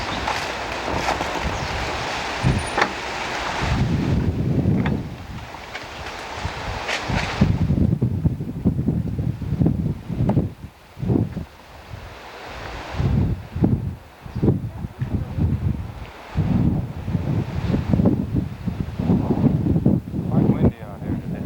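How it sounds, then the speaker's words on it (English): Gusty outdoor wind buffets the microphone near a store, a broad roar that swells and eases, loudest early on, with voices talking at intervals underneath. "Quite windy out here today."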